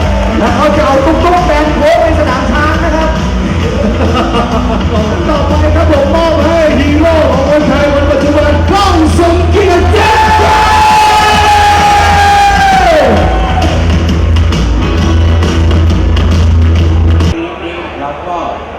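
Large crowd at a MotoGP riders' promotional event cheering, yelling and applauding loudly and continuously, with an announcer's amplified voice over the noise.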